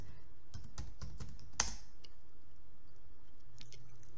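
Fingers typing an unmount command on a computer keyboard, a short burst of quick soft key clicks ending in one sharper keystroke, then a few faint taps.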